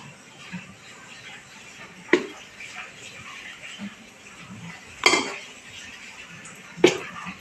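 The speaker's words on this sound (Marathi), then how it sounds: "टॅप करायचं थोडं पीठ भरून झाल्यावर" A metal idli mold plate filled with rice and lentil batter being tapped, three sharp separate metallic knocks spaced a few seconds apart over faint kitchen background noise.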